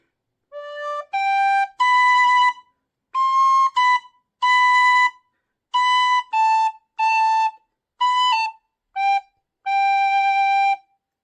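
Clear, bright tin whistle notes carry the jaunty Irish folk melody 'I'll Tell Me Ma', played up close in phrases separated by short silences.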